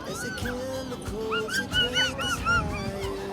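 A dog at a Boishakhi fair in Belghoria yips, barks and whimpers in short bursts amid a busy crowd, with people talking nearby.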